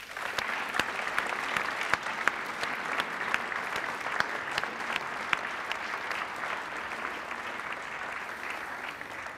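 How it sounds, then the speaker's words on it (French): Hall audience applauding absent students at a French history competition prize ceremony, a long even spell of clapping with scattered sharp claps, no voices. "Ils ne sont pas là, applaudissez-les."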